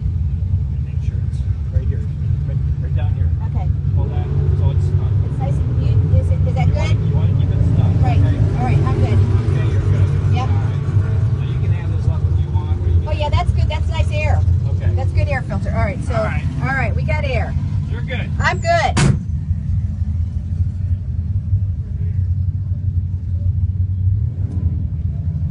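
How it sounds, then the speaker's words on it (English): Inside a 1957 Chevrolet race car on the track at Thompson Raceway, a heavy low engine rumble drones steadily throughout, with people talking over it close by. "For 50 years, we are riding in a 1957 Chevy."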